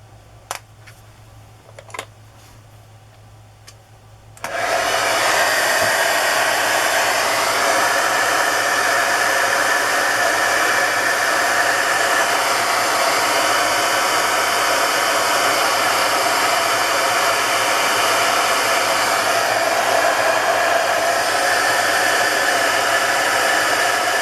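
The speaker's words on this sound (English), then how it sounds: "I'm going to dry it and see if it'll push some of the paint around, the ink around, and maybe reveal some more blue" A hair dryer switches on after a few seconds of near silence with a couple of faint clicks, then blows steadily and loudly to dry ink and paint on a handmade card, a continuous broadband whoosh with no talking.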